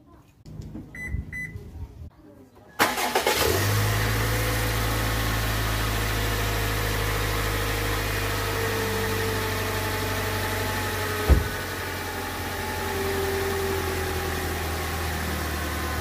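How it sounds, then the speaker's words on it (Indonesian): A car engine cranks and catches after a moment of quiet, then settles into a steady low idle with a brief louder blip partway through, heard close up in a garage setting after the car battery was given a capacitor fix. "kemudian saya akan starter mobil ini"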